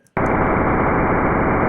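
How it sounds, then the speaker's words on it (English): Sonified recording of Jupiter's radio emissions, known as the roar of Jupiter, heard as a sudden dense wall of loud, steady rushing noise that starts abruptly after a brief near-silence and holds unbroken. "They named that the roar of Jupiter."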